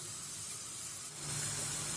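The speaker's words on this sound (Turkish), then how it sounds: "bir 5 dakika bu şekilde hızlı ateşte soğanımı kavurdum" Onions frying over high heat in a pan give off a steady, close sizzle and hiss that swells a little louder partway through.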